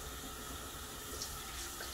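Cold water runs steadily from a tap, a continuous broadband hiss and splash without pauses, close and moderately loud, with no talking.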